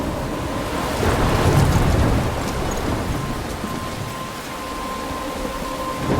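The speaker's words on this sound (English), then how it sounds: "I'm trapped in a storm?" A thunderstorm in the video game Life is Strange, with steady rain hissing throughout and a deep rumble of thunder swelling early on and then fading beneath the downpour.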